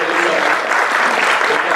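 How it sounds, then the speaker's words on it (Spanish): Dense, loud audience applause, a continuous roar of many hands clapping at close range with no break for the whole stretch. "Un aplauso para él."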